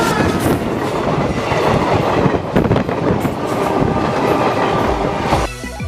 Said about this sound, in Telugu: ట్రైన్లో వచ్చాం కదా